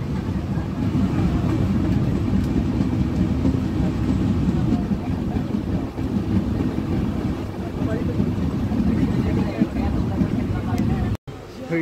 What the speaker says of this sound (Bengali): ভালো গতিতে এখন ট্রেন চলছে